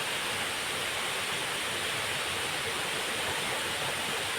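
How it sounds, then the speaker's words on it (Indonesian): Semaba waterfall, roughly 11 to 12 metres high, in a forest setting: a steady, full rushing roar of falling water, dense and unbroken, with no voices over it. "Ini air terjun Semaba."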